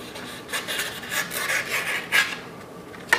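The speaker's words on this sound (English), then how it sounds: "then I go back to the rasp" A rasp scrapes coarsely across a wooden fish body form in an uneven rhythm, close and fairly loud, with brief pauses between passes.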